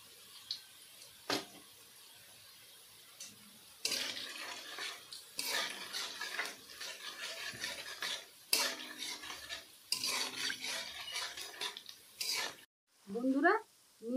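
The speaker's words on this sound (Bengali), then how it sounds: "মিহিদানাগুলো ভাজা হয়ে গেছে" Mihidana (fine boondi) batter fries in oil over medium heat while a metal utensil repeatedly stirs and scrapes the pan, giving intermittent bursts of clinking and rustling with quiet gaps. A brief voice-like sound comes near the end.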